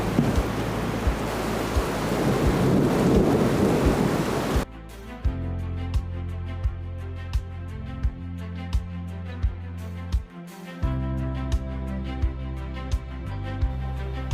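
Rain falling in Chamonix in the French Alps, a steady broadband hiss for the first few seconds before it cuts abruptly to a quieter scene with low droning tones and faint periodic clicks.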